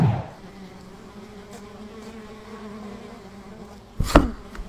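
A low, steady bee buzz hums throughout at close range around overgrown hives, broken near the end by a sharp knock or clatter.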